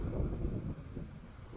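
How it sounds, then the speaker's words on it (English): Gusty wind buffets the microphone on a beach beside a park on a nasty, blustery day, giving a steady low rumble throughout with no voices. "Oh, and it's a windy, nasty day here."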